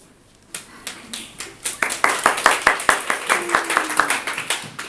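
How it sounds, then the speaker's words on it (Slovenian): Brief applause at a press event in Slovenia, scattered claps building quickly into a dense, steady patter of many hands, fairly close, with faint voices underneath. "Po kratkem aplavzu"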